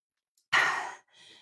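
One heavy, breathy exhale follows a kettlebell cardio and core workout, loud and close, trailed by a softer second breath as the breathing settles.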